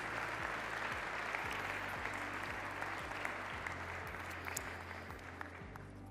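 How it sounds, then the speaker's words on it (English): Sustained applause fills a formal gathering at a Saudi investment forum, steady and dense throughout with a faint low hum underneath, fairly distant and even in level. "a big round of applause and a deep appreciation for this moment and for our distinguished leaders"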